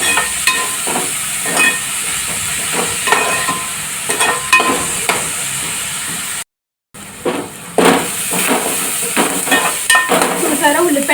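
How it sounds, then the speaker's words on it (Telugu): Onions fry in a pan with salt and turmeric, giving a continuous close sizzle with repeated stirring scrapes and a brief dropout partway through. "చూసారా, ఉల్లిపాయలు బాగా బ్రౌన్గా ఫ్రై అవుతున్నాయి"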